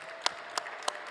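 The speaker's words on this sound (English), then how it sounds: "I think that deserves a clap." Three sharp, evenly spaced claps sound faintly in a quiet conference hall at an executive summit, each a brief isolated burst rather than a sustained round of applause.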